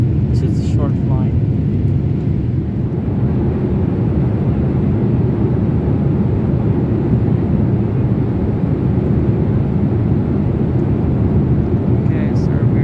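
Steady low engine roar fills the cabin of an Air India Boeing 787-8 Dreamliner cruising on a short flight from Lucknow to Delhi, a constant broadband rumble with only faint, brief sounds on top.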